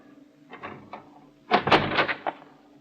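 An unlocked door opens in an old-time radio crime drama, with soft creaks and then a louder burst of rattling and scraping as it swings, heard close with no voices.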